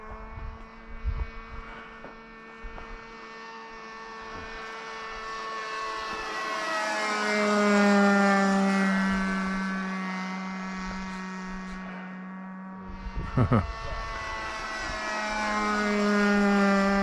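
A nitro-fueled RC model airplane engine flying at an RC field, its steady high buzz with harmonic tones sweeping up and down in pitch as the plane passes, fairly loud and continuous, with a brief thump near the end.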